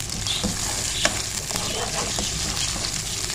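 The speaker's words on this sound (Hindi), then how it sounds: "अब हम इसमें डाल देंगे 1 टीस्पून लहसुन अदरक का पेस्ट और इसको भी हम साथ ही भून लेंगे" Onions and ginger-garlic paste fry in a pot for kofta pulao, a steady loud sizzle with intermittent scraping stirs of a spoon and a small knock, no talk.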